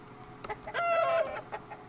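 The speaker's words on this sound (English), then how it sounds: "Baron von Mustache and his legion of guards have turned into chickens" In the PC game Lawrence Quest, guards turned into chickens give a short burst of rooster-like clucking and a stretched cackle, moderately loud against a quiet background.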